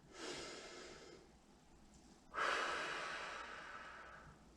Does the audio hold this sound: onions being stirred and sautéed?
no